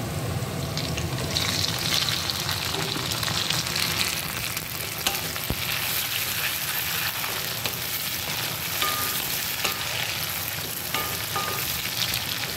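Chopped tomato and slit green chillies sizzle loudly in a pan with deep-browned onions, a steady close frying hiss with occasional stirring scrapes throughout, no voices.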